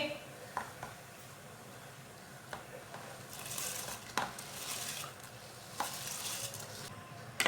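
Half-boiled rice being stirred in a pot of boiling water with cumin seeds for chicken biryani, with soft scraping and occasional clinks of a spoon against the pot over a steady bubbling hiss.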